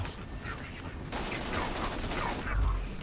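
Gunfire from a gun in the shooter game Borderlands 2: steady rattling bursts of shots run throughout, with a heavier low thump near the end.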